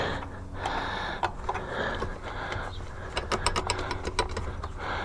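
A bolt on an XL80 motorcycle is tightened after a chain replacement, giving a run of close mechanical ratcheting clicks that speed up toward the end, with a faint breath heard under them.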